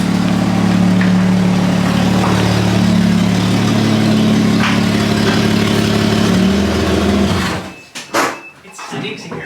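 A Toyota Cressida idles and creeps forward into a home garage with a steady low engine hum, then the engine cuts off near the end, leaving brief scattered rustles and faint voices.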